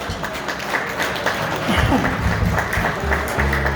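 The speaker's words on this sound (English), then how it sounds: "Let's give them a round of applause, please." A crowd applauds event staff who were just introduced, giving a steady round of clapping that stays mixed with voices and background noise the whole time.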